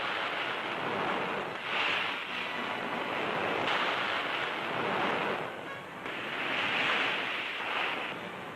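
Surf breaking on an Australian beach, with waves surging in broad, continuous roars and swelling every couple of seconds, loud and close with wind-like hiss.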